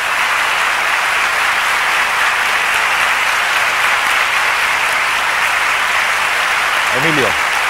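Studio audience applause for a guest on a 1989 Spanish copla television programme, a steady wash of clapping that holds at even loudness throughout.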